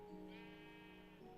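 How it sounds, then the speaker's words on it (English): A sheep bleats in the Minecraft video game, a single drawn-out bleat heard clearly over a steady game background with no talking. "Let's do summon sheep."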